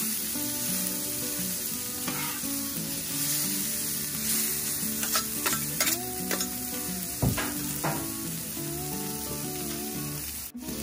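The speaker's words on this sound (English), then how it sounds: "You can kind of see how this cabbage coleslaw is already starting to cook down a little bit." Cabbage coleslaw frying on a Blackstone griddle, a steady close sizzle with scraping and stirring sounds and a few metallic taps over about eleven seconds, no voices.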